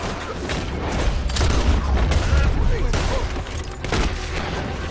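Gunfire rattles in the video game Red Dead Redemption 2, a dense, continuous volley of booming shots and mechanical clatter at moderate loudness with a few sharper cracks.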